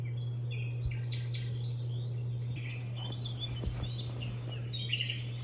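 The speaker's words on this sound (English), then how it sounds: "I have to wake up to the subtle sounds of birds" Small birds sing in the early morning with a scatter of bright chirps and short warbling phrases, fairly close and soft, layered over a steady low electrical hum.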